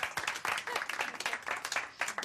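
Dense applause from a group of people at a charity shop, steady and moderately loud, with voices mixed in beneath the clapping.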